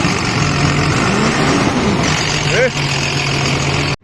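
A repainted car engine with old external parts idles steadily at close range. A brief chirping sound cuts in partway through.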